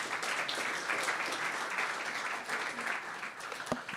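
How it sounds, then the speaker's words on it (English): Audience applause after a math-heavy technical talk at a DevConnect conference session, a steady wash of many hands clapping that fills the room evenly for several seconds without pause. "Please, round of applause."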